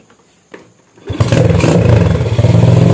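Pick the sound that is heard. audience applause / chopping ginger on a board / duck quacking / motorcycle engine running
motorcycle engine running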